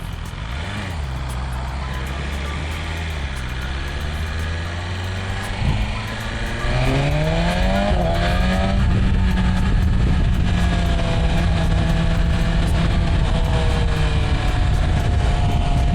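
A 1000cc motorcycle with its stock exhaust runs on an expressway, a constant loud engine drone with rising revs and gear changes under heavy wind rush.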